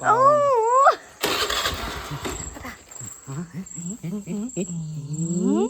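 A car engine cranks and catches in a short, rough burst of noise, set between stretches of people talking close by.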